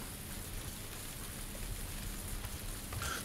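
Rain falls steadily in the video game PUBG, a soft, even, continuous patter and hiss throughout, fairly faint and with no talk.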